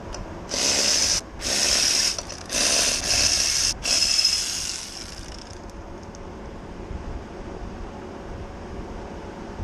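A hand ratchet loosens parts on a 2002 Honda Magna VF750C motorcycle, several quick bursts of close clicking over about four seconds, then quiet room tone.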